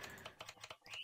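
Quick keyboard typing in the video game The Final Station, a rapid run of close, crisp key clicks lasting about a second.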